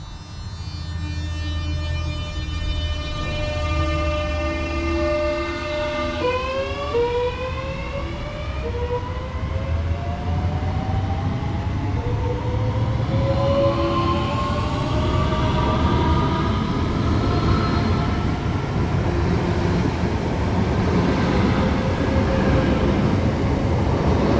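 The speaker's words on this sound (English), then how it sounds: "We're going on now is the 11:35 service to London Charing Cross from Tonbridge" An 11:35 London Charing Cross service pulls out of Tonbridge station, a close, loud electric train whose motor whine climbs steadily in pitch as it accelerates, over a rumbling roll of wheels, with no talking.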